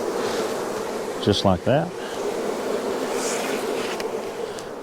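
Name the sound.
honey bees buzzing around an open hive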